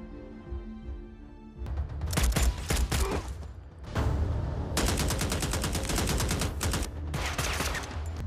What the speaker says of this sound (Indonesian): kembali melakukan aksi baku tembak dengan para penjaga